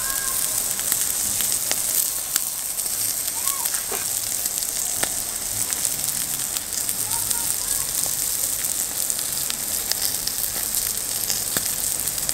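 Steady sizzling hiss of Wagyu beef searing over a charcoal grill, continuous and close, with faint crackles and no talking.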